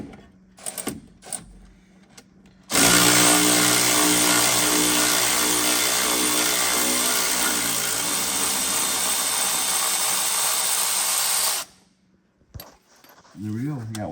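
A 3/8-inch ratchet turning a 15 mm deep socket to back out front strut bolts on a 2014 Chevy Silverado, a loud, steady mechanical whirring and clicking that runs about nine seconds, with brief quieter handling sounds before and after.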